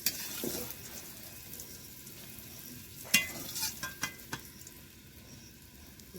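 Pointed gourd (potol) fries in oil in a wok with a soft, quiet sizzle. A few light utensil clinks and taps break through midway as the pieces are lifted out.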